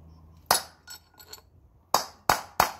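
Hammer and pin punch tapping a bearing race out of a boat trailer hub: a few sharp metallic clinks, one early strike, two softer taps, then three crisp blows in quick succession near the end, close and loud.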